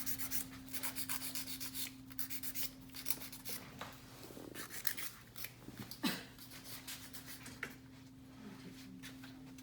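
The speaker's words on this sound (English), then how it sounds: "I'm gonna buff this one." An acrylic nail being buffed with quick, rhythmic scrubbing strokes, close and fairly quiet over a faint steady hum, with brief pauses between bursts of rubbing.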